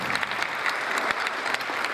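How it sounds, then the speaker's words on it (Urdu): An audience in a hall at a family function applauds to welcome a guest, a dense, loud, continuous burst of clapping from many hands. "بھرپور تالیوں سے ان کو خوش آمدید کیجیے۔"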